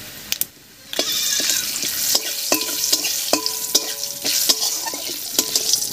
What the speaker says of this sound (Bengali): মাছ ভাজার এই তেলের মধ্যেই ফোড়ন দেব। আর ফোড়ন দেব 1/2 চামচ মতো গোটা জিরা আর 2টো তেজপাতা দিয়ে।